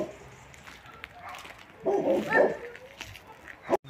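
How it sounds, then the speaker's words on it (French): Dogs from the pound at an SPA animal shelter bark and yip in a short cluster in the middle, moderately close, with quieter whimpers around it. "Ça c'est des chiens qui viennent de la fourrière."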